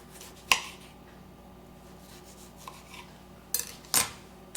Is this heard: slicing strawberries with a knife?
yes